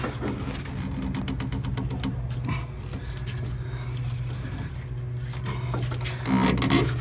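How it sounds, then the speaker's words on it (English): Strap wrench working loose a fuel filter on a Cummins 5.9 diesel in a '99 Fleetwood Discover motorhome, steady rubbing and rasping strain over a constant low engine-bay hum, louder near the end. "first thing we'll do is get the strap wrench on this"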